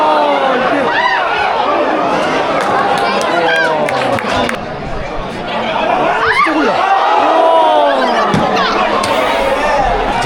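A football crowd at a Gibraltar league match between St Joseph's FC and a rival side makes dense chatter and shouts in the stands, with people talking close by, loud and continuous throughout.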